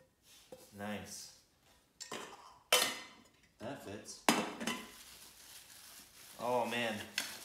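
Pots, lids, a frying pan and small dishes from a lightweight Bulin camping and backpacking cookware mess kit clatter and clink in bursts of metallic handling, with a voice talking between the clanks.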